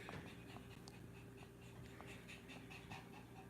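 A dog pants steadily and close by, with quick rhythmic breaths and a faint whimper under a low background hum.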